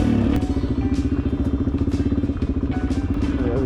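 Suzuki DR-Z 400 S dual-sport motorcycle rolling slowly downhill on a slippery green lane, its single-cylinder engine putting along in a steady low throb with scattered thumps and clatter from the rough track.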